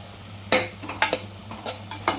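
Minced mutton keema is stirred and fried in a pan, with several sharp scraping clinks of a spoon against the metal at irregular intervals over a faint, steady sizzle.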